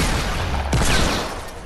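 Video game gunfire, a loud burst of rapid shots with a sharp crack and rumbling tail, dense and close, no voices over it.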